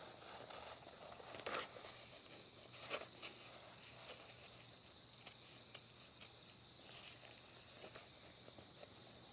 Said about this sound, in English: So now I'm just going to run my scissors.